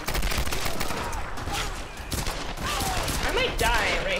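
Grenade launcher fire and explosions in the video game Tomb Raider, a dense, continuous barrage of blasts and gunfire throughout, with a voice talking over it.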